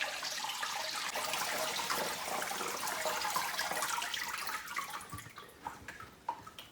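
Water is poured slowly from a bucket into an aquarium, a continuous splashing wash that thins out near the end into scattered drips and small splashes, fairly faint and close.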